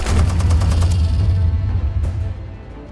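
Rapid gunfire rattles in a Batman Telltale Series video game, a dense burst of repeated shots over a heavy low rumble that thins and fades out toward the end.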